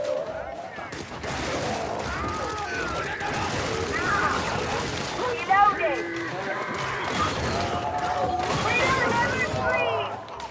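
Video-game gunfire while fighting bug patrols: dense bursts of rapid automatic shots and fusillades rattle almost continuously, with sharper cracks mixed in and a busy battle din behind them. Voices talk over the shooting.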